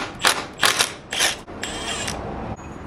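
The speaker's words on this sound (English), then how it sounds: "So all we need to do is take this bolt out." Ratchet working a bolt loose on a Suzuki V-Strom motorcycle, several short bursts of close, sharp ratcheting clicks followed by a longer continuous run.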